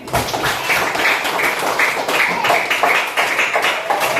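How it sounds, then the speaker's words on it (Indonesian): Classroom children clap for a fellow student, a lively run of uneven overlapping hand claps and taps that keeps a rough rhythm, close and steady throughout. "Tepuk tangan buat Fatih"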